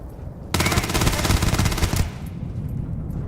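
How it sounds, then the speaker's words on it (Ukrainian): Epic machine gun fired in Starfield, a dense rapid burst of rounds lasting about one and a half seconds, loud and close, then cutting off to a quieter background. "оцей епічний кулемет мені подобається, тим більше, що у нас дуже багато цих куль до нього"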